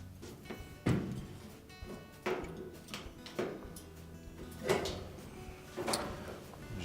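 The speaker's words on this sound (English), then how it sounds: "So with a putty knife, we'll locate those, depress them, lift up on the lid." Plastic clicks and knocks as the top lid of a Frigidaire dryer is released from its clips with a putty knife and lifted, several sharp close thumps spaced irregularly with quieter scraping between.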